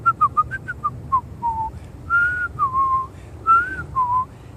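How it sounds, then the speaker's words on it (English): A person whistles a short, bright melody with several distinct phrases and brief pauses, fairly close and clear over faint low background noise. "Can I get a whistle in?"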